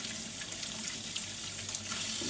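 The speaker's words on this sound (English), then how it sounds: "So it looks like I just want to go through and rinse them off." Tap water runs steadily over clams and mussels being rinsed in a sink, a constant close splashing hiss with no pauses.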